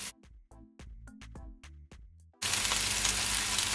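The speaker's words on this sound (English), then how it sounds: "As you can see, it is started to sear." A few dull clunks and taps, then a loud, steady sizzle of chicken drumsticks searing uncovered in a hot pan, close by.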